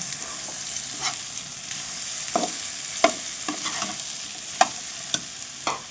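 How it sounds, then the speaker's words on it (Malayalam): Fried chicken being stirred into biryani masala in a pan, a steady sizzle under repeated scraping strokes of the spoon against the pan, close and continuous. "അതിനുശേഷം ചിക്കൻ വറുത്തത് അതിലേക്കിട്ട് നന്നായി ഇളക്കുക"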